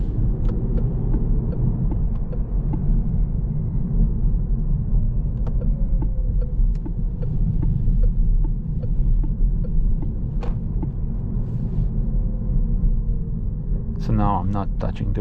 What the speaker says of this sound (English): Now let's put it to the sport mode, and with the small steering wheel, again maneuvering here,